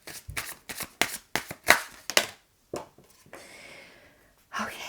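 A deck of oracle cards is shuffled by hand nearby, a run of crisp riffling bursts in quick succession, then a softer sliding rustle and a final card flick.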